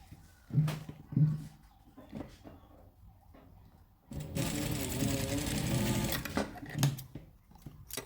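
Sewing machine stitching a pencil pleat curtain, running in a steady continuous burst for several seconds between short quieter stops, close and fairly loud, with brief handling noises around it.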